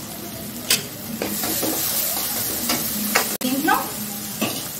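Onions with chili powder fry on high flame in a pan, a loud continuous sizzle broken by repeated stirring scrapes and clatters; a voice speaks briefly over it.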